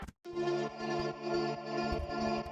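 Layered uplifting trance drop pads stack a sub bass, a trance pad, a vocal pad and a choir into one sustained chord, loud and dense, with a short gap at the start before the full chord rings on alone.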